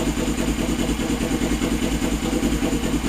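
A custom Suzuki GS450 scrambler motorcycle with new coils and plug wires idles steadily at close range, a low, even engine burble with a light mechanical clatter and no speech.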